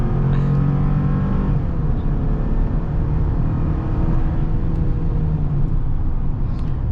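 Steady engine drone and road rumble from inside a 2022 Chevy Silverado pickup driven in sport mode, a constant low hum holding even throughout with no talking.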